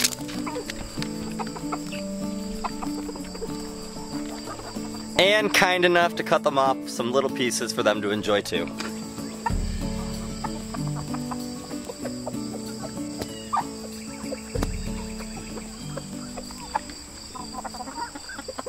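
Chickens cluck and murmur softly in the background throughout, with a person talking over them and occasional rustling.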